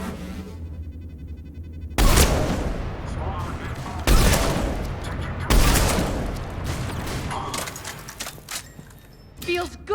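Gunfire from the Omega DLC of Mass Effect 3 Legendary Edition: loud bursts of shots erupt at about two, four and five and a half seconds, with sustained crackling fire and booms in between.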